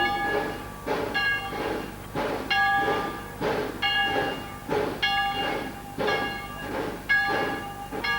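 Train on the Manchuria Express route arriving at Changcheng: rhythmic clickety-clack of wheels over rail joints, repeating roughly every half second, with squealing metallic tones, moderately close and without talk.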